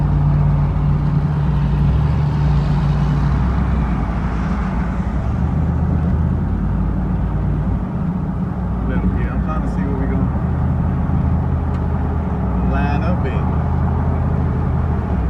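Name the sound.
old Chevy truck racing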